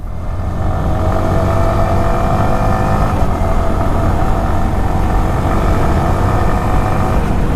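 A Yamaha R15 V4 M motorcycle running in third gear as it changes gears without the clutch, giving a loud, steady engine drone with a slight shift in pitch partway through.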